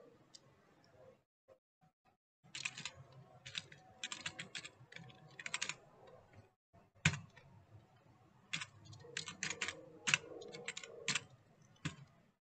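Keys clacking on a computer keyboard as a password is entered, arriving in quick irregular bursts separated by short pauses, close and fairly quiet, with no voices.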